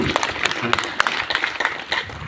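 Brief, brisk clapping from a small gathering after a recited Hindi poem, dense irregular claps mixed with overlapping voices, close and fairly loud.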